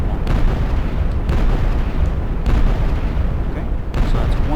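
A weapon fires in an Unreal Engine 4 game, giving deep booming blasts about once a second over a constant low rumble, with talk throughout.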